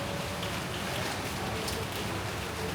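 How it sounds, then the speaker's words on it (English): Steady rain falls outdoors around the Kuala Lumpur sightseeing area, a dense, even patter that stays at the same level from start to finish, with no talk over it. "we've got the rain."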